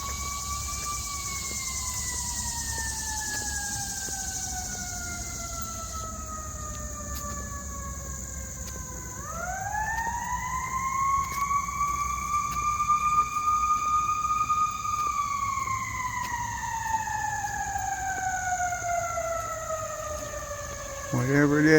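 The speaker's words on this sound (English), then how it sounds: "More sirens." A wailing emergency vehicle siren rises and falls slowly in long sweeping tones, heard from a moderate distance outdoors near a wooded park, steady and fairly loud against a quiet background.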